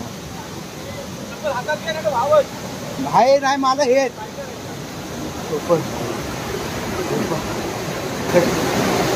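Water flows in a stream at a village river in Konkan, a steady rushing wash that runs under a person talking and grows fuller toward the end.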